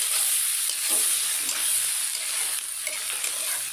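Vegetables frying in a pan give a loud, continuous bright sizzle with bursts of crackle as they are stirred, steady throughout with no voices.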